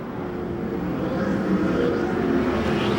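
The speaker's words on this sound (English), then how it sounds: "And now Gardner's starting to pull away with less than 8 laps to go." USAC/CRA sprint car engines roaring around the track at a race in Perris, California, a steady, loud mechanical drone that builds slightly, heard from the grandstand without talk.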